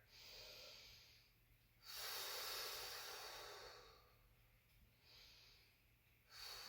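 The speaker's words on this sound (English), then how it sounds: "Nice and steady breathing here." Slow, steady breaths during a gentle yoga twist flow, drawn in and let out through the nose in long airy waves, two or three full cycles close to the mic with no talking.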